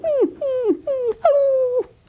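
A person imitates a whining, crying dog for an old radio drama, making four close, high nasal whimpers that slide downward, each about half a second long, with short gaps between them.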